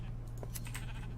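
A single short bleat from a sheep in the Minecraft Ore Sheep mod, clear and close over a steady low game hum, with no talking.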